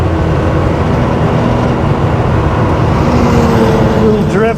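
Loud, continuous engine and road roar from a 1979 Porsche 911 SC Targa drifting through a corner on a drive, steady throughout with a rising tone near the end.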